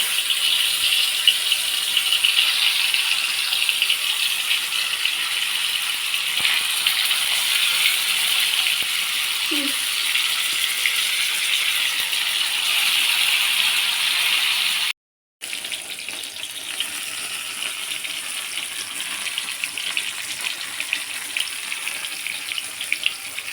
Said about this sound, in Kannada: ಸೊ ಇವಾಗ ನಾನು ತೆಗೆದುಬಿಟ್ಟು ಎಣ್ಣೆಯಲ್ಲಿ ಹಾಕ್ತಾಯಿದ್ದೀನಿ